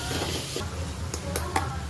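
A spoon stirs mutton masala frying in oil in a pan, a soft continuous sizzle with a few sharp clicks of utensil against the pot, close and steady.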